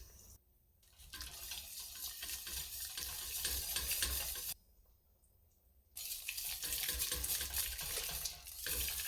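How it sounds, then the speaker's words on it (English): Sour cream mixture whisked gradually into a pot of soft potato soup for dill pickle soup, giving a steady wet stirring and scraping wash with two brief quieter pauses, close and alone. "we're going to start whisking in the sour cream mixture very gradually"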